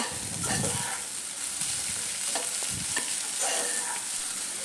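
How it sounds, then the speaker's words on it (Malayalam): Chopped ginger and curry leaves fry in hot oil, a steady close sizzle broken by occasional scraping stirs of a spatula in the pan, with no speech. "ഇഞ്ചി അരിഞ്ഞത് നമുക്ക് ഇട്ട് കൊടുക്കാം. കുറച്ച് കറിവേപ്പില കൂടി ഇട്ടിട്ട് നമുക്ക് നന്നായിട്ടൊന്ന് വറുത്തെടുക്കാം."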